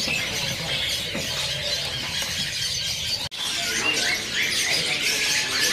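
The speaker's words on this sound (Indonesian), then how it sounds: "Di kios ini juga ada burung perenjak ya" Prinia birds at a crowded Indonesian bird market give continuous high, shrill squeaking calls, layered with many other birds chirping nearby, forming a dense, busy chorus.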